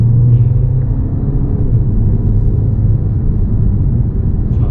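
A four-cylinder 2017 Audi A6 C7 1.8 TFSI speeds up under a light press of the accelerator, its steady, low engine rumble loud and close throughout with no talk over it.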